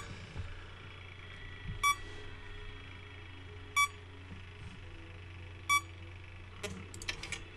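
An alarm in Five Nights at Freddy's 3 gives three short, sharp electronic beeps spaced about two seconds apart over a low steady hum, followed by a few fainter clicks.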